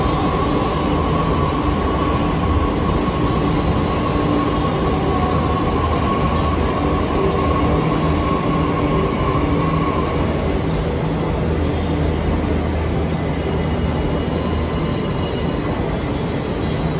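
A metro train running, heard from inside as a loud, continuous rumble and rolling noise that holds steady throughout, with a faint high whine and no talk.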